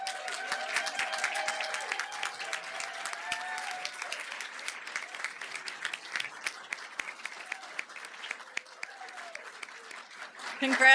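Audience at a community awards ceremony applauds steadily, a dense wash of clapping that gradually thins toward the end, with a voice talking faintly over it.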